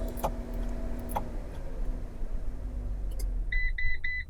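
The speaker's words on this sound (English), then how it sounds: "simply press the top unlock button on your key fob 3 times" A Winnebago Travato camper van answers three presses of the key fob's top unlock button with three short, evenly spaced electronic beeps near the end, over a steady low engine hum.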